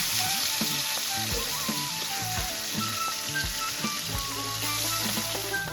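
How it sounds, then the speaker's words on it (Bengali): Bitter gourd pieces coated in turmeric and salt frying in a tablespoon of oil in a wok, giving a continuous close hiss of sizzling with light knocks and stirring clicks and no talk. "হলুদ নুন মাখিয়ে রাখা উচ্ছেগুলো কড়াইতে দিয়ে দিলাম"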